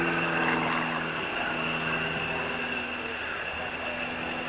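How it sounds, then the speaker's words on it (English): A 30-year-old Bulldog aircraft with a 200 horsepower Lycoming engine performing at an airshow, a steady distant propeller drone with a droning engine tone that fades slightly, heard alone. "that's an interesting maneuver in a Bulldog"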